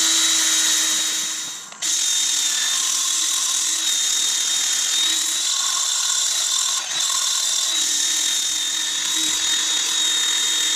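An elm bowl being sanded on a spinning wood lathe gives a steady, bright hissing whine with a thin high tone, loud and close, running almost unbroken with one brief dip.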